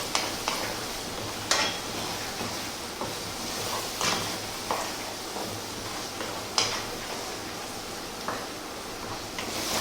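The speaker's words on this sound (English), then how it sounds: "stirring pretty much all of the time" A cashew and spice curry sauce being stirred in a pan, a steady soft sizzle broken by repeated scraping strokes and occasional clacks of the spoon against the pan, close and without talk.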